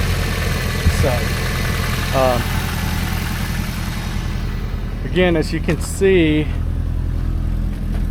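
A 1984 Subaru Brat engine idles steadily and loudly throughout, a constant low mechanical drone with someone talking over it.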